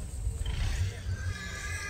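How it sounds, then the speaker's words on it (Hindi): A horse at the Sindh Livestock Expo 2020 gives a short, close whinny over faint hoof clops and low crowd murmur. "यहाँ हमें कुछ बेहतरीन किस्म के घोड़े नज़र आ रहे हैं"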